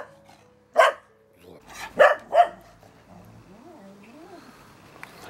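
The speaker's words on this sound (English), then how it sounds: "Who are you barking at?" A dog barks three times, close and sharp, one bark then two more about a second later, followed by quieter whining or squeaky sounds.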